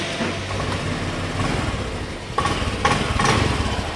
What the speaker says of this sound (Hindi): अभी देखिए दोस्तों स्मूथ हो गया इंजन